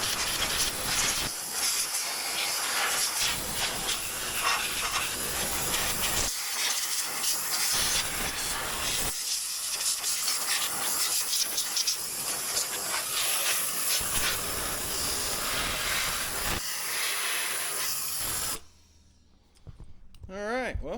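Compressed air hisses hard and steadily from an air compressor indoors, a loud, continuous rush that cuts off abruptly near the end, followed by a brief voice.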